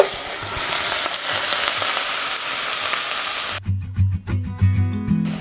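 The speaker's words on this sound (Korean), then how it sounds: "미역하고 고기를 충분히 볶아줘야 맛있어요" Seaweed and beef stir-fried in a pot for Korean seaweed soup: a loud, close, continuous sizzle that breaks off into a series of rhythmic scraping and clanking stirs of a utensil against the pot.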